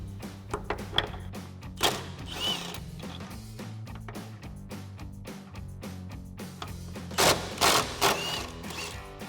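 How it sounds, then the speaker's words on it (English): An 18mm socket on a ratchet works the upper shock mount bolts loose on a 2015-2024 Ford Mustang, giving soft repeated clicks and clunks of metal on metal nearby, with a few sharper knocks and a faint mechanical hum underneath. "Now we'll remove our two upper shock mount bolts using an 18mm socket"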